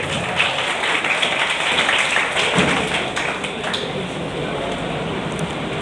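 Audience clapping at a coaching class ceremony for NEET 2022 students, a steady patter of many hands that fades in intensity partway through.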